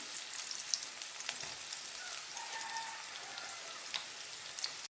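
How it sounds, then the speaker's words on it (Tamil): Onions sauté in a pan with curry leaves for a Coimbatore-style tomato curry. A fairly faint, continuous crackling sizzle is scattered with small pops and occasional stirring taps. "வெங்காயம் வதங்கட்டும்"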